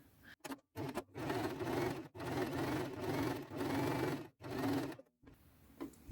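A sewing machine fitted with a stitch guide foot runs in bursts for free-hand embroidery, a close motorized whirr with rapid needle chatter, stopping and starting several times with short pauses between runs.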